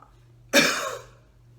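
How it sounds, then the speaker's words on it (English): A single deliberate cough bursts out after a held deep breath, sharp and close, fading over about half a second amid low room hum. "Deep breath in, hold, cough."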